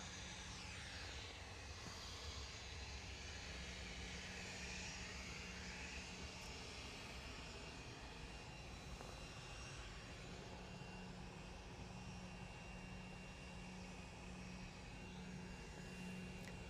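An aircraft lines up on the runway at Manchester Airport, a faint, distant, steady engine drone with a low hum running throughout.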